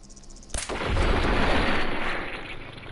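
A single heavy gunshot in Fallout 4, a sharp loud crack followed by a long rolling boom that fades slowly over a couple of seconds.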